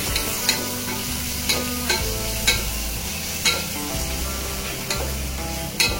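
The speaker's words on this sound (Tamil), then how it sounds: "ஸோ இதெல்லாம் நல்லா ஃப்ரை பண்ணணும்." Cashews frying in a pan, a loud, steady sizzle broken by regular stirring scrapes about once a second, close up with no talking.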